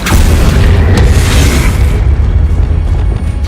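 A Confringo blasting spell explodes in Hogwarts Legacy, a loud, heavy boom right at the start, then a deep rumbling tail fading over a few seconds.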